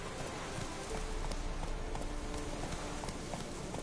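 Horse hooves clip-clopping in The Witcher 3, a quick rhythmic patter of hoofbeats running steadily at moderate loudness over a rain-like background hiss.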